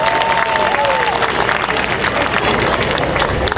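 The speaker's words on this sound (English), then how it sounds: "Ladies and gentlemen, round of applause." An audience at a cosplay contest at the Orlando Japan Festival applauds loudly with some cheering, a full, close crowd sound that starts with a brief vocal tone.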